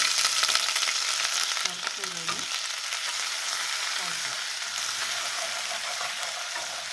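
Garlic and ginger frying in a pan for palak paneer, a steady broadband sizzle throughout with a few brief stirring clinks and scrapes near the middle, close and moderately loud, no talking.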